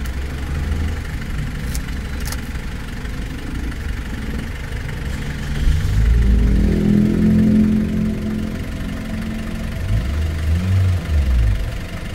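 A 2012 Toyota Altis engine idles steadily with a low, continuous hum, its noisy tensioner bearing adding a faint rattle, and the idle grows briefly louder and rougher midway before settling again.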